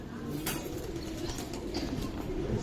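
A pair of khaki pigeons coo softly and steadily, close by, over a low murmur of background noise.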